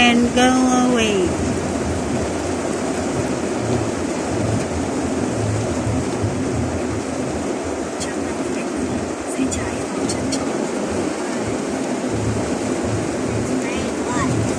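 Rain falls steadily in Vietnam as a dense, continuous hiss with some low rumbling underneath, while a few brief faint sounds poke through near the start.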